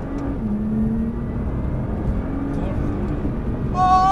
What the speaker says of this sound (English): Accelerate, hard,